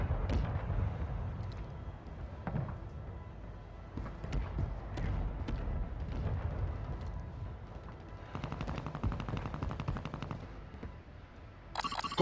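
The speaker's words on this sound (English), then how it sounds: "Friendly mortar strike inbound." Booming explosions and rattling automatic gunfire in a battle royale match in Verdansk in the video game Call of Duty: Warzone Mobile, dense and continuous, with a rapid burst near the end.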